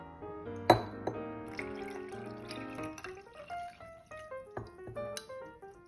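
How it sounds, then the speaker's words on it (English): Butterfly pea tea lemonade is poured into glasses: a sharp glass clink, then a run of bright trickling and filling sounds with small drips and light taps, close and fairly quiet, with no talking. "It's hard to pour and fill."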